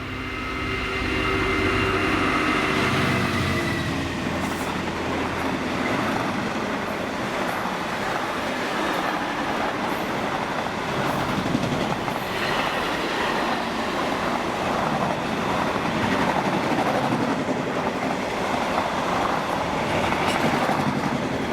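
A freight train hauled by class 66 locomotive 66121 rumbles past at Spital steadily for a long stretch, with continuous rolling wheel noise and occasional clanks, loud and close.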